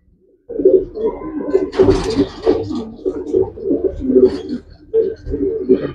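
A flock of white racing pigeons, eight months to two years old, coo in close, repeated rhythmic rolls, with a louder burst of wingy fluttering midway.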